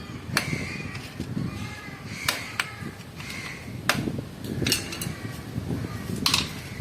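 Sharp metallic taps of a hammer striking a screwdriver to remove a ring from a bicycle mid-drive, spaced irregularly over a busy background murmur, fairly close.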